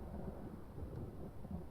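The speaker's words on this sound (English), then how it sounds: "there's a thunder again" Distant thunder rumbling low and continuous during a storm, with a steady wash of rain mixed in, fairly faint and unbroken for the short stretch.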